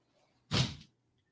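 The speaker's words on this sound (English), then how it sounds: "I gotta shut my door here so my landlord don't hear all this." A room door is pushed shut indoors, giving a single brief, fairly close thud-like swish in an otherwise quiet room.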